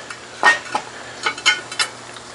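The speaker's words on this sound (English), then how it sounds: "I'm gonna go ahead and give that a stir" A spoon scrapes and knocks through a pot of pork stew with sweet potatoes and vegetables, making several distinct stirring strokes over a faint simmer.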